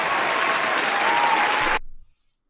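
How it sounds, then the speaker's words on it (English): Steady, dense applause from a crowd, loud and even, cutting off abruptly into silence after about two seconds. "Applaud to that."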